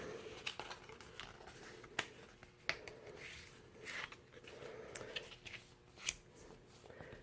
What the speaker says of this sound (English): So let's fold on all the scored lines.